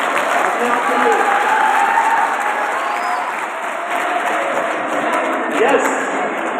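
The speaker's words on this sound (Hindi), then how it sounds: "तालियां अपने आप के लिए" Students at a college career counselling session applaud themselves, a sustained, fairly loud patter of many hands with voices mingling underneath throughout.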